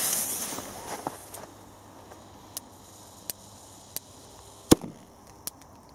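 Lesli Vipers firecrackers set off one after another outdoors at New Year's: a row of short, sharp pops at distance, several fairly weak, one louder bang near the end, otherwise quiet between.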